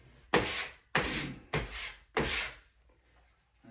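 Sanding a wall during a bonus room remodel: four rough, hissing strokes of abrasive across the surface in a steady rhythm, close and moderately loud, with no talk.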